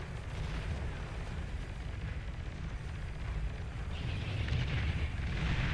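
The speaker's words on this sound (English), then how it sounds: "Bombing run and geo explosion as well from those Razorbacks" A bombing run and a geothermal explosion in the strategy game Beyond All Reason, heard as a continuous, loud, rumbling roar of overlapping blasts that swells slightly toward the end.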